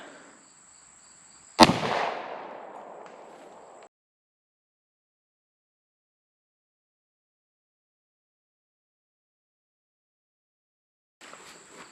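A single sharp 10mm pistol shot fired into ballistics gel at about five yards, a loud abrupt crack followed by a short decaying echo, then long silence before faint outdoor noise returns.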